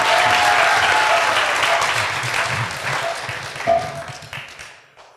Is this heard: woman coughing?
no